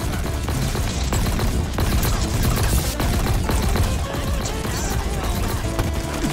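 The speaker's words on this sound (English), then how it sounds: "Okay, so it's like a grenade launcher." Grenade launcher fire in Halo Infinite, heard as a dense, continuous barrage of booming blasts and bursts with no break across the whole stretch.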